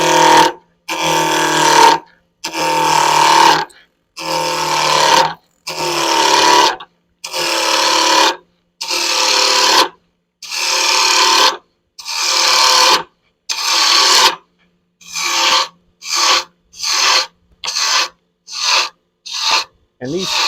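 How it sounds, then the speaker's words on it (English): A wood lathe spins a bottle stopper blank while a 1-inch roughing gouge cuts it, giving repeated rasping bursts that start and stop in short passes, loud and close, with no voices. "flip the lathe on. Start off with a 1-inch rough and gouge."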